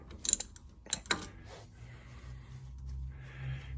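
Wheel hub bolts on a Chevy Tracker / Suzuki Grand Vitara being loosened with a socket and ratchet, giving a few sharp metallic clicks and cracks early on, followed by quieter mechanical handling and low rumble.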